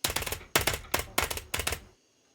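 A telegraph key in a Wild West roleplay game clicks out a message in four or five rapid bursts of sharp rattling taps, close and clear, then stops into near silence.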